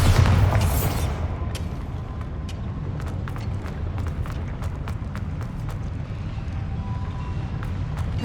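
A Bombarda blasting spell goes off in Hogwarts Legacy, a loud booming burst at the start that fades into a rumbling, debris-strewn tail with scattered sharp clicks and thuds.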